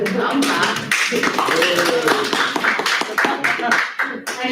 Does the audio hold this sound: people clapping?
yes